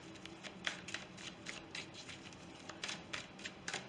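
Tarot cards are shuffled and drawn in a quiet room, giving soft, rapid riffling and flicking bursts at close range with no talking.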